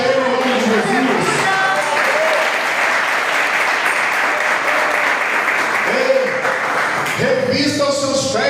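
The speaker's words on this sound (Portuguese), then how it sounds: "Receba isso e aplaude Ele em nome de Jesus." A church congregation bursts into applause during a Sunday service, loud continuous clapping from many people while a preacher's voice speaks over the start and the end.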